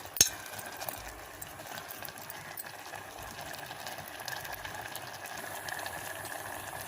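A pot of rice and sesame pongal simmers on a stove flame, a soft, steady bubbling hiss that stays low and even throughout, opening with one brief click.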